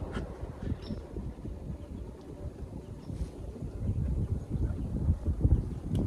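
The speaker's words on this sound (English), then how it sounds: "it's so windy" Strong outdoor wind buffets the microphone as a steady, rumbling low roar with gusty surges that swell louder toward the end, no voices present, from a hunter sitting in a recliner tree stand.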